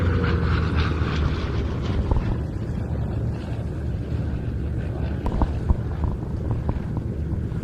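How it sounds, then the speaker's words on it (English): Republic P-47 Thunderbolt, a large single-engined Second World War fighter, flying a display at Duxford, heard as a distant, wind-buffeted engine drone that rises and fades over several seconds. "P-47 going through its paces as Sally B comes into land"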